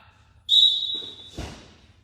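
A coach's whistle sounds during a wrestling drill, one sharp, steady blast of about three quarters of a second, followed by the thump of wrestlers moving on the mat.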